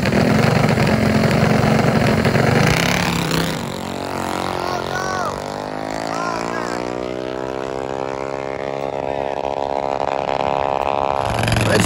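A mini bike engine revs at a drag race, a loud buzzing two-stroke-like drone that climbs and falls in pitch as the bike pulls away, staying close and steady throughout.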